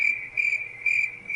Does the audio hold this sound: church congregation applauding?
no